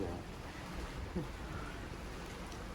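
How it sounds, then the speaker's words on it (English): Rain mixed with wet snow falling at Juneau, Alaska, in August, heard from a cruise ship approaching port: a soft, steady hiss of precipitation with a low wind and water rumble, even and unbroken. "It's raining and there's snow."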